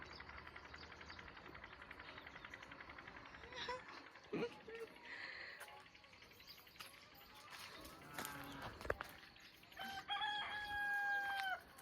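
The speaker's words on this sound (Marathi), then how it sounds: "किती भारी कोंबडा ओरडते" A rooster crows loudly near the end of a village morning scene, a long drawn-out call over quiet outdoor background with scattered clucks and faint activity.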